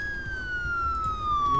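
A police siren sounds alone, a single drawn-out wail sliding slowly downward in pitch over low background rumble, fairly close and steady throughout.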